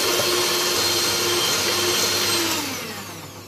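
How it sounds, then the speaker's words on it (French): An electric hand mixer whisks sugared, vanilla-flavoured egg mixture for a chocolate and pear Yule log, a loud steady motor whirr that holds throughout and fades slightly near the end, with no talking. "batteur électrique"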